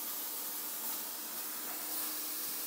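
Harbor Freight budget steam cleaner spraying dry steam onto a countertop, a continuous broad hiss held steadily for several seconds, close and even, with no talking.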